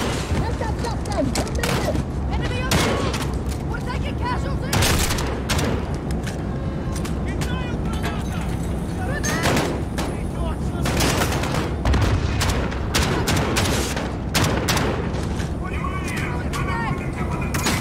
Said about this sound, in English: Flame rounds!